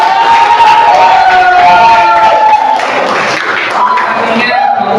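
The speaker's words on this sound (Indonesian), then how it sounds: "Silakan kita tepuk tangan untuk semua yang berbuat" An audience at a university class presentation applauds, a dense steady wash of clapping and crowd noise that stays loud throughout, with some voices mixed in.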